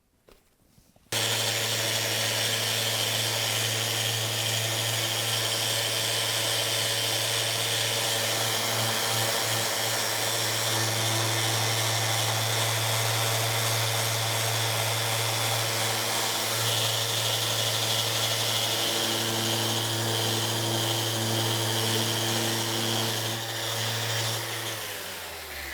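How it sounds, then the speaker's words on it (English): Fantail orbital sander running steadily on a cricket bat face with 80 grit sandpaper, lifting glue residue; a loud, continuous whirring drone with a constant motor hum that starts abruptly after a second and holds alone to the end. "we use a Fantail orbital sander"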